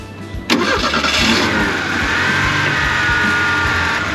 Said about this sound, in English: I'm gonna start the car right now.